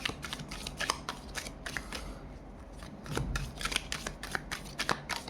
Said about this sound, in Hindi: यहाँ से मैं कुछ और कार्ड्स भी पुल करूँगी।